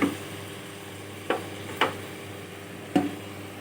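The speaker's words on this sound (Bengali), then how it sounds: "ভালো করে ভেজে নেব চিকেনটা সুন্দর করে" Chicken fries in a pan with a soft, continuous sizzle, broken by a few sharp stirring scrapes spaced apart.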